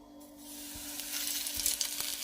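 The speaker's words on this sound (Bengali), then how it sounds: "আমি ভালোভাবে মাছগুলোকে কড়াইতে দিয়ে দিচ্ছি" Lote fish (Bombay duck) frying in hot oil in a wok, a bright, steady sizzle that swells as the pieces go in and then holds loud and close, with no talking.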